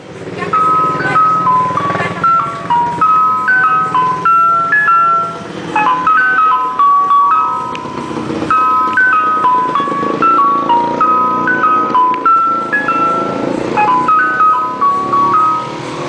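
An ice cream vendor's truck plays its melodic jingle over and over without pause, a loud, bright looping tune with a steady rhythm and faint street noise underneath.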